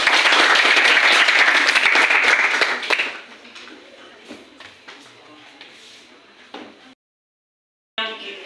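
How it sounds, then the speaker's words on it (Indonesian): Students in a classroom clap together in a loud, dense burst that fades after about three seconds into scattered faint claps and rustling, followed by a brief silence. "Tepuk tangan lagi sekali"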